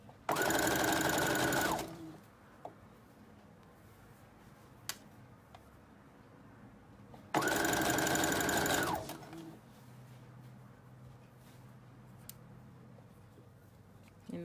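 Sewing machine stitching knit fabric for a child's cape runs in two loud, steady bursts of roughly two seconds each, separated by a quiet pause with a few faint clicks.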